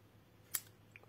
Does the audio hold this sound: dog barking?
no